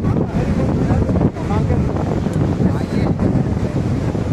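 Fast water rushes at Athirappilly waterfall in Kerala, a steady loud broadband roar mixed with wind buffeting the microphone that runs unbroken through the whole stretch, with no clear voices over it.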